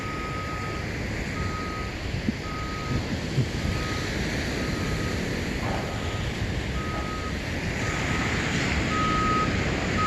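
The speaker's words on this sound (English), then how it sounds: "I think it was just those giant trucks making noise." Large trucks reversing, giving a steady series of evenly spaced beeps over a constant outdoor rumble with wind, near a beach.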